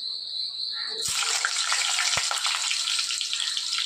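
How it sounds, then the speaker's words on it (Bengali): Pointed gourd pieces dropped into hot oil, with salt and turmeric: a quiet start, then a loud, steady, close frying hiss that continues to the end, with a couple of faint knocks underneath. "এবার আমি পটলগুলো ভেজে নেব।"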